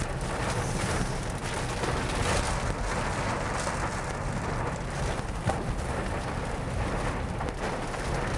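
Steady rain hisses without a break for the whole stretch, loud and close, with a low rumble and wind buffeting mixed in.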